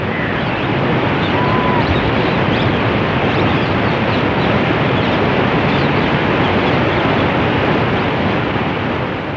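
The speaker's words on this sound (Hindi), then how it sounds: "ऊंचाई से गिरता पानी मानो अपनी सुमधुर ध्वनि तरंगों से प्रकृति सुंदरी का मुंह बहला रहा हो।" Waterfall on the Narmada river, a steady, dense roar of falling water that holds at the same loud level throughout with no pauses.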